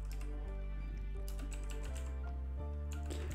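Typing on a computer keyboard to enter a search while setting up WordPress, a string of soft key taps over a loud, constant low electrical hum that shifts pitch a few times.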